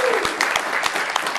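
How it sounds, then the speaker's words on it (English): An audience applauds a congresswoman at a statehood issue forum, a short burst of fairly loud clapping with a few sharp individual claps standing out, and a voice faintly audible beneath it. "Can we give the Congresswoman a round of applause?"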